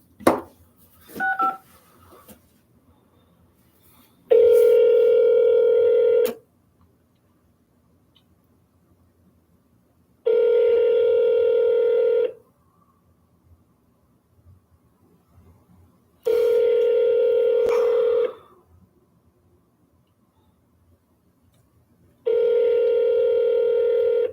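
Phone call placed on a telephone: brief dialing tones, then four long evenly spaced ringback tones separated by silence, clear and close with no talking.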